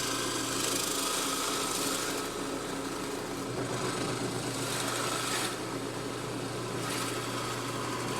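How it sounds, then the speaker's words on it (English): Drill press boring a 1¾ inch hole through a clamped wooden workpiece, a steady whirring motor hum with grinding cutting noise that rises and eases slightly as the bit works, heard alone at close range. "I'll drill an 1¾ inch hole in the center"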